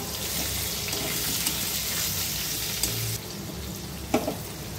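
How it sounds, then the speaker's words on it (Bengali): Salted mixed vegetables fry in a covered pan with a steady, moderate sizzle, broken by a few brief clicks and knocks near the end. "নুন দিয়ে ভালো করে নেড়ে ঢাকা দিয়ে ভেজে নেব"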